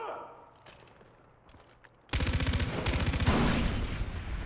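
Gunfire bursts in the video game Far Cry 4 erupt loud and dense after two seconds of quieter game ambience, with rapid repeated shots running on to the end.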